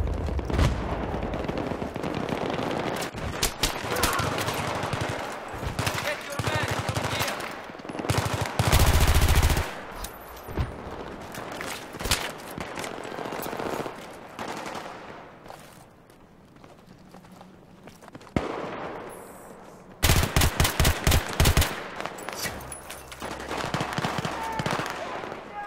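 Rapid bursts of FAMAS automatic rifle fire in Battlefield 3, loud and close, in repeated clusters with brief pauses, layered over battlefield ambience and distant shots, with faint voices briefly in the background.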